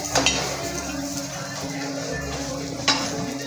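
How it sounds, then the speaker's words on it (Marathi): Onion and garlic roasting in a little oil in a pan for a Konkani-style shellfish dish, a soft steady sizzle with a couple of sharp utensil clinks against the pan, close by. "हलकंसं तेल टाकून मी भाजून घेते"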